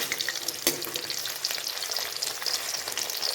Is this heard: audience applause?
no